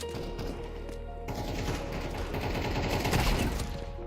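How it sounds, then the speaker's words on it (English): Counter-Strike 2 firefight: rapid, overlapping gunshots and automatic bursts rattling steadily and close at hand for the whole few seconds, growing slightly louder toward the end. "Where are you shooting at, bro?"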